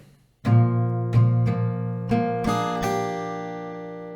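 An acoustic guitar is strummed slowly, six ringing chords spaced about half a second apart, each sustaining and fading into the next, close and clear.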